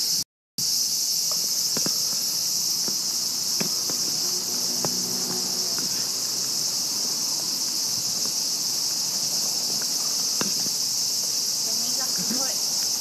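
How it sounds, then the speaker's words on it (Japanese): Cicadas shrill loudly and without a break on a summer night in central Tokyo. The dense, even drone fills the air, with faint footsteps and scattered small sounds beneath it. "セミ がすごい"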